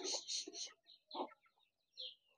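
Native chickens cluck in short bursts while feeding near pheasant-like birds on a farm, several close, distinct calls with gaps between them, no talk.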